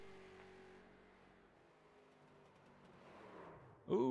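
Street stock race car engines from the iRacing simulation at Concord Motorsport Park drone at a low, steady hum, with a faint rising engine note, then a sudden louder burst of sound at the very end.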